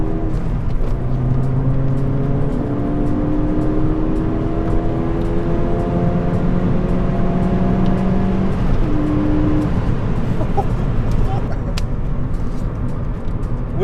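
A tuned Ford Fiesta ST running a VUDU VP225 remap accelerates hard, its engine note climbing steadily through the rev range in a loud, continuous pull with rising harmonic tones and a brief shift-like dip near the end.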